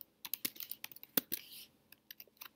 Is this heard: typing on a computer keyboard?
yes